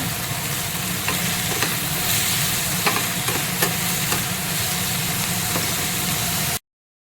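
Onion sizzles in a pan with turmeric and salt for sponge gourd palya, a steady close frying hiss with faint scraping stir strokes, ending abruptly.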